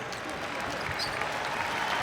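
Basketball crowd at the Kohl Center for an Iowa at Wisconsin game, a dense, fairly distant roar of applause and cheering that stays steady throughout.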